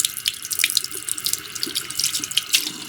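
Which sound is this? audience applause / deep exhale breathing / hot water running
hot water running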